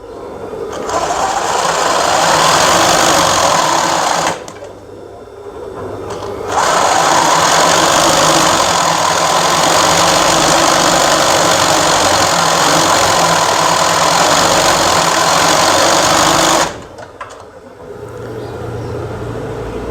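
An embroidery machine, after its needle fault is repaired, runs with a loud, fast rhythmic whirring and clatter, stopping briefly twice before starting again.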